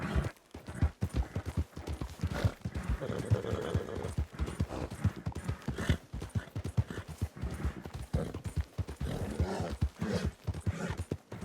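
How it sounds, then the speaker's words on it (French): Rapid clip-clop of horse hooves running steadily throughout, with occasional snorts and background game noise, from the video game Red Dead Redemption 2 roleplay. "Allez, allez, cheval."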